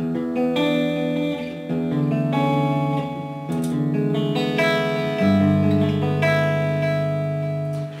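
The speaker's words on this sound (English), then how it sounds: "So I'm going to put a delay on." Electric guitar through a Line 6 HD100 amplifier's delay effect, playing sustained chords and notes, each one trailing off in repeating echoes, steady and fairly loud with no voices.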